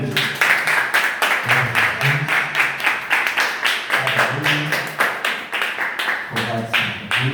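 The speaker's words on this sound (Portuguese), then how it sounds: "Você pode aplaudir a Jesus essa noite?" Congregation clapping together in church, a steady rhythmic beat of many hands, loud and close, with singing voices and low tones weaving underneath throughout.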